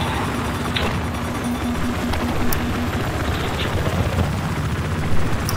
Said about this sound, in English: I'll try to hover the chopper and protect you